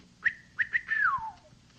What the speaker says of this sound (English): he's got a special little whistle, Israel, that goes like this